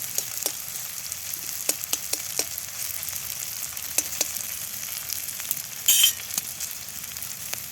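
Onion and green chili frying in a pan for a small river fish curry, a steady crackling sizzle with scattered sharp pops and a brief louder burst of spattering near the end.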